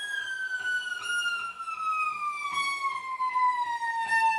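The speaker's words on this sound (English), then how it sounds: "So instead, I do the full gliss" A cello's bowed glissando slides steadily downward in one long continuous pitch sweep, played alone with a bright, sustained tone.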